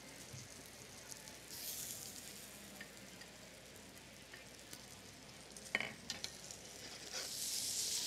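Stock is ladled into a hot pan at a cooking demonstration and hisses in a soft, steady sizzle that swells briefly near the end, heard faintly and without talk.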